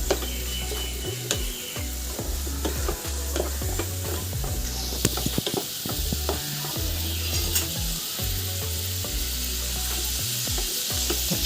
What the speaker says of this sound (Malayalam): അര ടീസ്പൂൺ മഞ്ഞൾപ്പൊടിയാണ് ചേർത്തത് അല്പസമയം ഒന്ന് വഴറ്റി കൊടുക്കാം